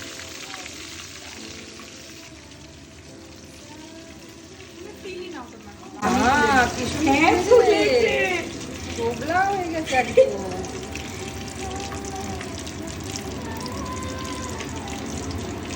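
Luchi deep-frying in hot oil, a loud bubbling sizzle that starts abruptly partway through and stays steady to the end, with softer kitchen noise before it.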